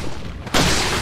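A single loud gunshot cracks out in Resident Evil 4, an abrupt, full-bodied blast that cuts in after a brief lull and rings on through the rest of the moment.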